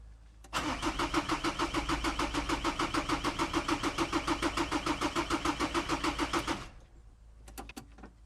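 Diesel engine of a Citroen C15, parked for ten years, cranking steadily for about six seconds with a rapid rhythmic starter chug, close and loud, then cutting off, followed by a few faint clicks.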